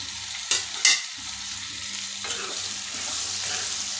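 Chopped tomatoes drop into a pan of frying prawn masala, giving two quick loud splashing bursts followed by a steady, moderate sizzle with light stirring scrapes.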